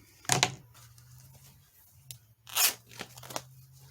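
Material for a Christmas journal being cut by eye, a few close crunching snips, one near the start and two more shortly after, over a low steady hum.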